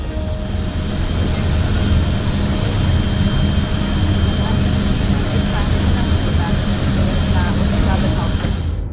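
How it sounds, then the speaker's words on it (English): A US Air Force C-17 jet transport taking off, a loud, constant roar of jet engines that stays level and dense throughout. "What followed was a powerful takeoff"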